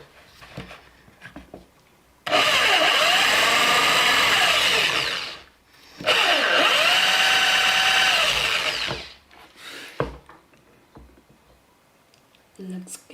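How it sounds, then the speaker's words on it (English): A power drill with a dull bit whines loudly in two sustained bursts of about three seconds each, separated by a brief pause, then cuts off, leaving a quiet, clattering room. "Wow, this drill bit is dull."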